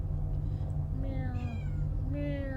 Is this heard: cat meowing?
yes